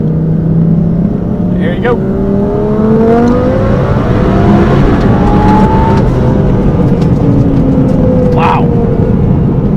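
A BoostLogic twin-turbo Gen II Audi R8 accelerates hard in a pull, its engine note climbing steadily in a loud, continuous rising drone from start to finish, with brief excited talk from inside the car.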